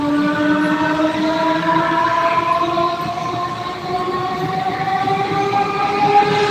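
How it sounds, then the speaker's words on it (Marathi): A train bound for Karjat rumbles steadily past nearby, with a sustained horn-like tonal drone over the clatter throughout, loud and continuous. "आता गेलेली आहे ट्रेन ती कर्जतला"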